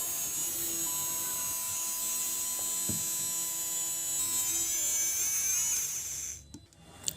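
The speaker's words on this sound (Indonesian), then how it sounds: "memberikan sedikit oil di dinamonya agar memperhalus perputaran dinamo saat dinyalakan nanti" A Mini 4WD Manta Ray White Special toy car's small electric motor, freshly oiled, runs in with a constant high-pitched whine and faint hum for several seconds, then cuts off abruptly.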